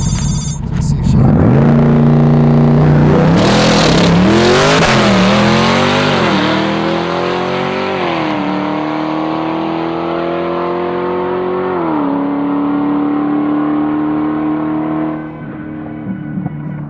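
A 1200-horsepower JoTech twin-turbo Corvette C8 roars loudly down a drag strip, its engine note rising through several gear changes with brief dips before fading into the distance.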